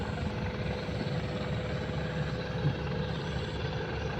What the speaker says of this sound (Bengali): এবার জাহাজ ছেড়ে দিয়েছে